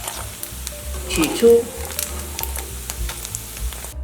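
Pieces of wheat gluten (kaofu) sizzle as they pan-fry in oil, a low crackling hiss with a few soft knocks and scrapes. A voice speaks briefly over the frying.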